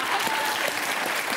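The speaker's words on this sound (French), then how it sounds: "On a ce qu'il faut, on nous applaudit très fort." An audience at a live comedy stage show claps loudly and continuously, a close, dense wash of applause with no pauses.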